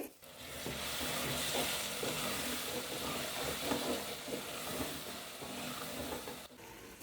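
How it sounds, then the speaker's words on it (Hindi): Chili powder, salt and coriander powder frying in hot oil for a capsicum and potato curry give a dense, continuous hiss and sizzle with faint stirring scrapes and a brief dip near the end, with no talking. "स्पाइसेस डालने के बाद तकरीबन 2 से 3 मिनट भून लेंगे।"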